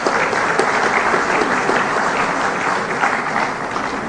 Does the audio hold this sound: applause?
yes